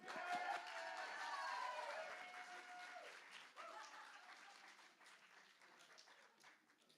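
Audience applause at a live music benefit show, a dense burst of clapping and cheering that swells then fades gradually over several seconds.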